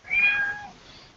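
A cat gives a single clear meow that rises and then trails off, fairly close and on its own with no talk.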